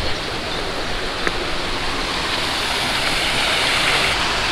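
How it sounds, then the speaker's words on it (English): Water rushes out of a narrowboat canal lock as a steady, loud, broadband roar that holds constant and builds slightly, with no voices over it. "So I'm just letting a little bit of water out of the lock because it must be leaking at the other end."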